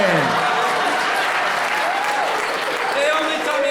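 Applause and clapping from an audience at a Winterfest event, a dense, continuous patter of hands that holds steady throughout, with some voices and shouts mixed in under it.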